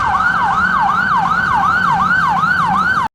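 Emergency vehicle siren wailing in a fast, regular up-and-down sweep, loud and near with a low engine rumble beneath, cutting off abruptly at the end.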